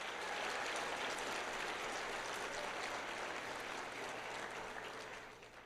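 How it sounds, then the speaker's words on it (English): Audience clapping at the Science Leadership Academy class of 2026 high school commencement ceremony: dense, sustained applause from a large crowd that holds steady throughout and fades slightly at the end. "let us first, and again, we'll clap a number of times, we can do it again"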